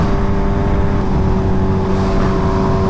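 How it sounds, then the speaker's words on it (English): KTM Super Duke naked motorcycle engine, a loud, steady, close rumble with a constant tone holding for a few seconds, no talking over it. "I don't think I've ever seen someone ride a Super Duke, so it looks sick. It sounds really good too."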